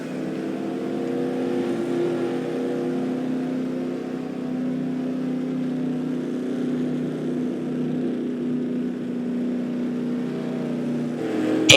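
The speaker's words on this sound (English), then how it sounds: "He is pitting this lap." A race car circulating on a road course oval during a race lap as it heads for the pits, a sustained steady engine drone with a slowly shifting pitch, moderately loud and without commentary.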